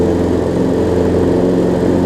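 A Toro Personal Pace walk-behind lawn mower engine runs steadily with its blade engaged and under load, a loud, even, close drone with no surging and no talk.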